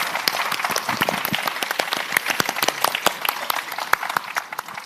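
Sustained audience applause for a panel at the Hong Kong International Cultural Summit, with many hands clapping steadily and evenly in a hall, loud and continuous throughout.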